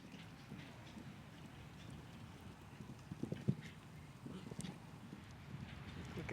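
A mare galloping in a show jumping jump-off at the Great American Million gives faint, uneven hoofbeats that quicken near the middle, with soft background noise and murmuring voices.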